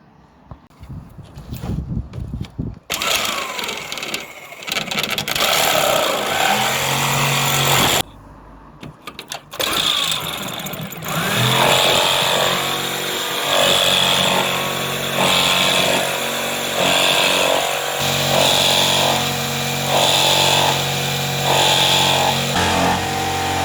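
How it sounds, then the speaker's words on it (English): A jigsaw cuts through a too-long greenhouse panel during a DIY greenhouse build, its loud buzzing motor running in sustained bursts with a couple of short pauses before cutting steadily to the end. "I'm going to try the jigsaw and see if we can shorten it"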